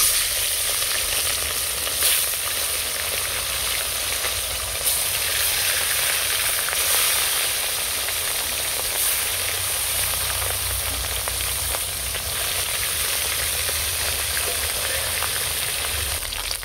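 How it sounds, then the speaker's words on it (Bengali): Steady, loud sizzling of katla fish frying in hot mustard oil, a continuous bright crackle with occasional pops and no talking. "মাছগুলো আমি ভেজে নেব।"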